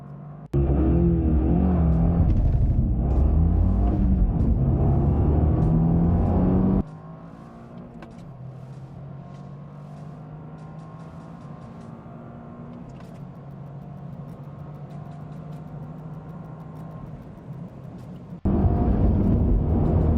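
Cars accelerate hard in a drag race against a Toyota GR Corolla Circuit hot hatch: a loud engine roar from inside a car, then a quieter steady drone of cruising, then the loud roar returns near the end.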